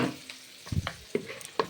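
Bitter gourd, potato and onion fry in a pan, a soft background sizzle punctuated by several distinct spatula knocks and scrapes at irregular intervals, close by, with no talking.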